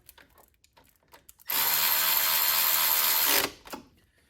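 A power tool with a 14 mm socket spins up and runs steadily for about two seconds while tightening an upper bolt during alternator and radiator work on a 2007 Lexus ES350, preceded and followed by faint clicks and handling noises.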